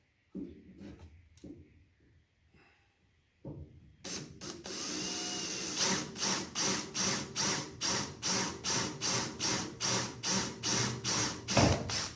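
A drill bores holes in a window trim panel on a 1968–72 A-body car. After a few quiet knocks, it starts up close and loud, then pulses in a steady rhythm of short bursts as it cuts.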